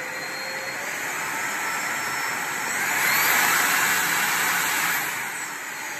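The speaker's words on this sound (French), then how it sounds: "Cet aspirateur il aspire nettement mieux que celui que j'avais avant" A cordless stick vacuum cleaner runs alone with a steady close whine and airy rush, swelling briefly louder midway before settling back.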